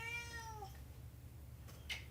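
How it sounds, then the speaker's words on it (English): A pet cat meows once, close and clear, in a single drawn-out call that fades into a quiet room with a faint soft rustle near the end. "Sorry, excuse my kitty."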